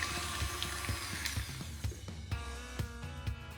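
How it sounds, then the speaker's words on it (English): A stand mixer with a paddle whips cream cheese in a bowl, giving a steady, loud motor whir with rhythmic knocking and clattering throughout, for red velvet cheesecake batter. "I'll start by whipping my cream cheese for a minute or two just until it's nice and smooth."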